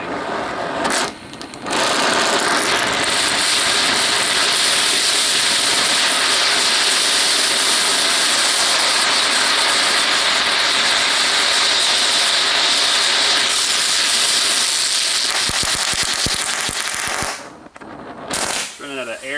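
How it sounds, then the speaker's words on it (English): A gas torch used to burn out a shovel roars loudly and steadily for most of the span, with rough sputtering and crackling as it backfires, then cuts off briefly before resuming. "Actually, yeah, it's backfiring into the thing here again."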